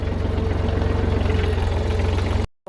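A small tractor engine chugs steadily close by with a regular low throbbing beat, then cuts off abruptly at the end.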